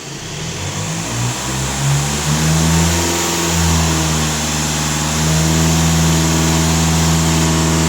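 A 2020 Volkswagen Passat B8 diesel engine, warm with its soot filter under check, revs up from idle and holds steady high revs, loud and close with a continuous droning tone.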